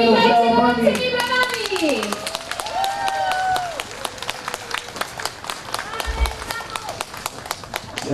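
An audience greets band members at a concert with rapid, dense clapping that builds after a voice speaks at the start and then carries on alone.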